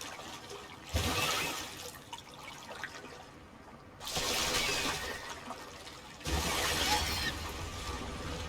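A waterfall roars in the video game Wuthering Waves, coming in three loud surges of rushing, splashing water separated by quieter stretches, with no voices.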